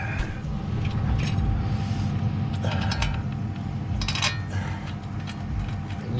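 A ratchet tightens a long bolt on a vehicle, making short bursts of close metallic clicking separated by pauses, with a low, steady mechanical background underneath.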